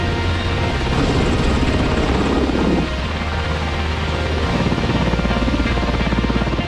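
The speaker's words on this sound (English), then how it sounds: "let's take a look at this self-flying helicopter" Loud, steady rotor thump and turbine whine of a pilotless self-flying military helicopter passing close by, holding throughout with a slight shift in tone midway.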